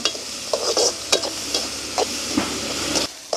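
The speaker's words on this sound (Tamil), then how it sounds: "வெங்காயம் பச்சை மிளகா கொஞ்சமாக வதங்கட்டுக்கும்" Small onions and green chillies sauté in oil in a pan, a close steady sizzle broken by repeated stirring scrapes of a spoon against the metal.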